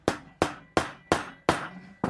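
Brass hammer tapping on a Weihrauch HW45 (Beeman P1) air pistol during stripping: five sharp, evenly spaced metallic strikes, close and loud, each ringing briefly before the next, with a sixth blow starting at the end.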